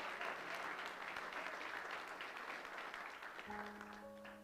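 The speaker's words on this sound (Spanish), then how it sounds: "Levántale un aplauso al Señor," A church congregation applauds during a sermon, a dense, even wash of clapping that stays steady, with a sustained musical tone coming in near the end.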